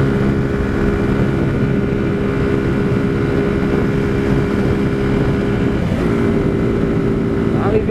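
A motorcycle engine idles steadily with a low, droning hum throughout, continuous and close, with no pauses or revving.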